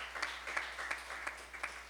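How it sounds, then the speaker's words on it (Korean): Faint, distant clapping from a youth church congregation during a Korean Sunday service on Parents' Sunday, a sparse few pairs of hands with uneven, separate claps over low room hum. "박수 부탁드리겠습니다"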